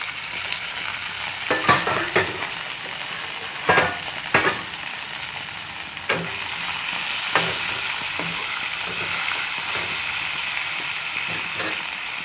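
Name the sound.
onions and potatoes frying in hot oil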